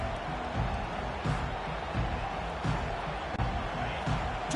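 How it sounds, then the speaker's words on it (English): A home crowd at a football game roars in a steady, dense wash of cheering and chatter throughout, with no single voice standing out. "this home crowd is fired up and ready to make a difference today"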